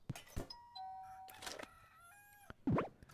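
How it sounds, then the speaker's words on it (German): A rooster crows in the video game Content Warning, a wavering mid-pitched call heard alongside a doorbell-like ding-dong chime and other electronic tones, ending with a loud, rough burst near the close. "Ich frage mich immer noch, wo dieser Hahn eigentlich ist."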